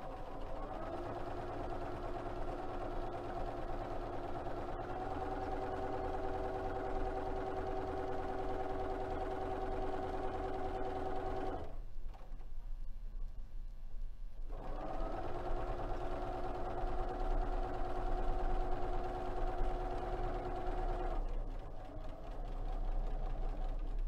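Sewing machine stitching a hooded towel at slow speed, a steady mechanical whir that runs for about eleven seconds, pauses briefly, then resumes for several more seconds before fading.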